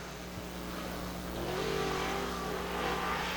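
A Late Model race car engine at Dixie Speedway on a qualifying lap, a distant steady drone that swells slightly as the car comes down the back straightaway under open-air track ambience.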